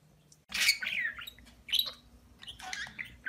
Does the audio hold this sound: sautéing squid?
no